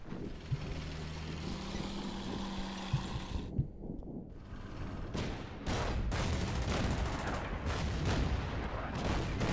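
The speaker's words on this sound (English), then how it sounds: "Even our artillery actually managed to really damage those enemy tanks" Artillery fire and gunfire in the wartime strategy game Order of Battle: Burma Road, a dense, continuous rumble of booms and crackling shots that briefly drops away before returning louder and steadier.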